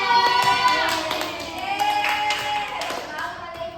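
Schoolchildren in an elementary classroom perform a rhythmic "tepuk hebat" clapping chant, with sharp repeated hand claps over mixed sung and chanted voices filling the room.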